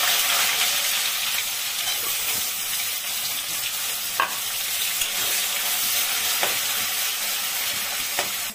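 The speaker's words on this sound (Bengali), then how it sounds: "কুচানো পেঁয়াজটা দিয়ে দিচ্ছি তেলের মধ্যে" Chopped onions frying in hot oil with whole cumin, cinnamon and cardamom, a continuous close sizzle with occasional sharp clicks of a utensil against the pan and no talking.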